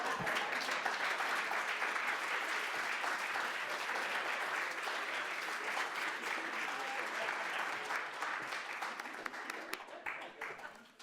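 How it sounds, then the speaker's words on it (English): An awards ceremony audience at the University of Hartford bursts into sustained, full-room applause that holds strong, then thins and fades toward the end. "Let's have one more round of applause for the recipients of our Exceptional Professional Success Award."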